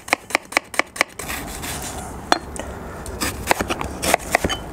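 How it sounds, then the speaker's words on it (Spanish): An onion is chopped with a knife on a board for a quick wok sausage rice, starting with a fast run of sharp, close knocks, then sparser irregular cuts and scraping. "Aquí vamos a arrancar picando la cebolla."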